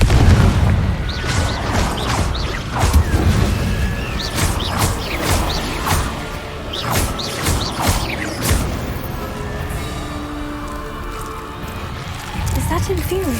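Spell explosions and crashing magical impacts from Hogwarts Legacy, including the Confringo fire spell, go off in repeated booms and pops as someone talks over the action.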